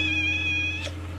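A bedraggled stray cat lets out a single drawn-out, plaintive meow while being lowered into a bath, close and clear above a low steady hum.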